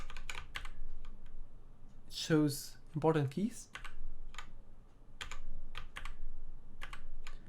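Keys clack in scattered bursts on a DMK02 budget mechanical keyboard, close and fairly quiet. A person speaks over part of the typing.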